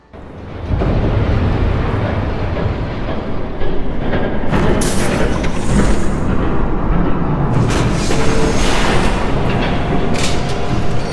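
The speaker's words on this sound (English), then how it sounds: "There's a train coming." Train rushing past in Batman: The Telltale Series video game, a loud, sustained rumbling roar that swells in quickly and stays heavy and close, with bursts of rattling clatter.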